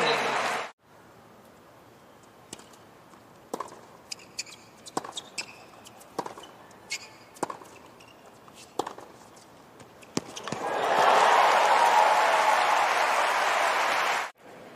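A tennis crowd at Arthur Ashe Stadium during a US Open quarterfinal between Leylah Fernandez and Elina Svitolina. First come sharp, spaced racket hits and footsteps in a hushed arena, then a sudden loud roar of cheering and applause that swells and holds for several seconds.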